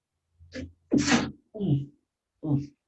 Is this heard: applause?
no